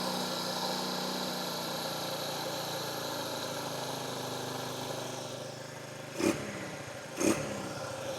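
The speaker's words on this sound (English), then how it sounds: "It's idling a little high, but shoot, this is awesome. It's running really good." A 1969 Honda CL90 motorcycle engine idles slightly high with a faint, steady buzzing putter, and two brief louder bursts follow near the end.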